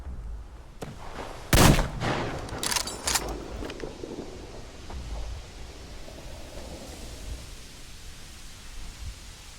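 Explosions and gunfire burst in a desert battle in the shooter game Metro Exodus, a sharp loud blast followed by a few smaller cracks, then fading into low ambient rumble.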